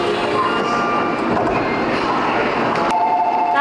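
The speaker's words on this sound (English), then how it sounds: "Even though the train is really fast, it's really quiet." Steady rumbling interior noise of a Japanese Shinkansen bullet train running at speed, heard from inside the carriage as a constant loud whoosh with faint tonal whine and a brief change near the end.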